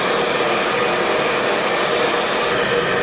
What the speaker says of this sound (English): I used a hairdryer to melt the beeswax into the shoe